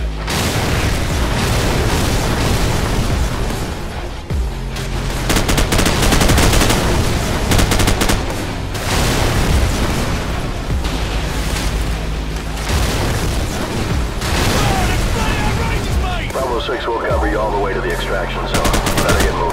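An AC-130-style gunship fire mission in Call of Duty 4 brings continuous heavy machine-gun fire and booming explosions, loud and relentless across the whole stretch, with occasional radio voices beneath the battle.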